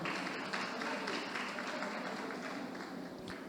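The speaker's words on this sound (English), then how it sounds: "a round of applause for him" Audience applause for a guest introduced at an academic lecture series, steady dense clapping at moderate volume throughout, slightly fading toward the end.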